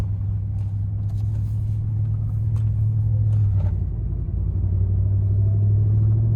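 Four-wheel-drive vehicle on Goodyear Ultraterrain AT tires driving fast on a snowy road, a steady loud low engine and tire rumble with a few brief clunks and scrapes.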